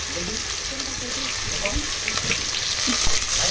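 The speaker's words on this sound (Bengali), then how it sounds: "প্রথমে আমি আলুটা দিয়ে দিয়েছি তারপর একটু নাড়াচাড়া করে নিয়েছি" Diced potatoes frying in a pan for vegetable pasta, a loud steady sizzle close by with stirring scrapes and clatter running through it.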